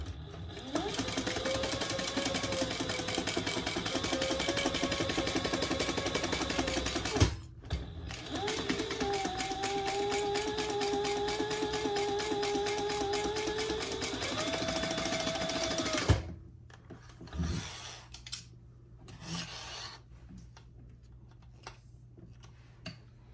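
A sewing machine runs in long, steady bursts while stitching a pouch lining, its rapid mechanical ticking stopping briefly between seams before fading into quiet handling noises near the end.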